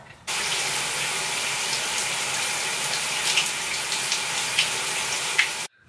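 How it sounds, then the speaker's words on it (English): Shower water running steadily in a bathroom, a continuous hissing spray that starts abruptly, holds even and close for several seconds, then cuts off, with no voices. "So I'm gonna take a shower real quick"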